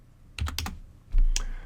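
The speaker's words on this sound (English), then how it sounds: "We can either retype it, or we can use Control-C on the keyboard." A few quick computer keyboard key presses for copy and paste shortcuts, close and crisp, in two short bursts of clicks with no talking.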